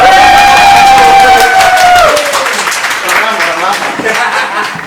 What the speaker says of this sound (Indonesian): Kamu tepuk tangan.